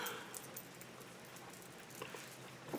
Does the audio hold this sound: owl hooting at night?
no